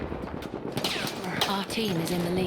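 Rapid gunfire in the Battlefield 1 online team deathmatch video game, a quick burst of shots mixed with game sounds while players talk excitedly over it.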